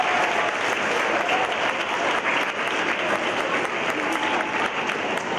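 An audience at a school leadership lecture on campus applauds loudly and steadily as a playback singer is welcomed, a dense even clatter of clapping that carries on without a break.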